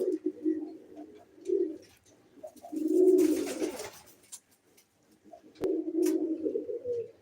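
Low, throaty pigeon coos come in soft bursts, a few close together, with a brief brighter rustle midway and a sharp click near the end.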